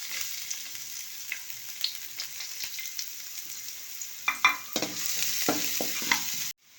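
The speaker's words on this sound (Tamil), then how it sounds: "பொடியாக நறுக்கின பூண்டையும் இஞ்சியும் ஆட் பண்ணிக்கலாம்." Chopped garlic and ginger frying in about two tablespoons of oil for a chilli chicken Manchurian, a steady bright sizzle with intermittent scraping stirs throughout, stopping abruptly at the end.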